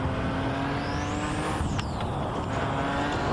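Car engine in the Assetto Corsa racing game revving up as the throttle is rolled on, a rising whine over steady road and engine rumble, up close and continuous.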